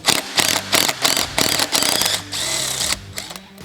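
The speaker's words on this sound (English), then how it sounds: "you want to grab your 5/8 spark plug socket, set it down on there, and then just pull it out" Spark plug being worked out of a UTV engine with a 5/8 spark plug socket and ratchet, giving a close, loud run of rapid ratcheting clicks in several bursts with short pauses between.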